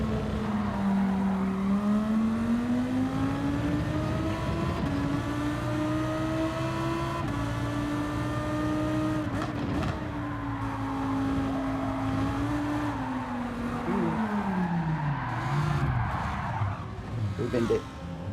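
A race car in Gran Turismo 7 runs hard with a steady engine drone while its tyres squeal and scrub through corners, the pitch rising and dipping as it brakes and turns. A voice talks over the racing throughout.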